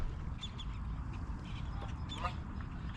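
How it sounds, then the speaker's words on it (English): Mallard ducks quack in short scattered bursts, several calls rising over a steady low background rumble, moderately close but fairly quiet overall. "All these are mallards."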